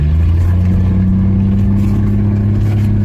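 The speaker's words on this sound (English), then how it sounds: "steering is making a lot of noise" A 1965 Rambler American's engine drones loud and steady through a sharp turn, with a constant low hum and a faint whine from the noisy steering mixed underneath, no voices.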